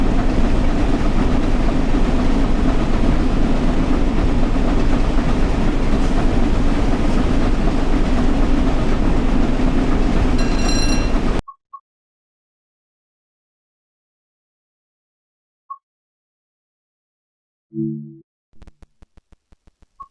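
A train in a railway simulator game pulls away under power on the West Coast Main Line, with a steady, loud rolling rumble and rail noise for about eleven seconds before it abruptly cuts to near silence, then a few faint clicks.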